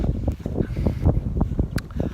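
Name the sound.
gust of wind on microphone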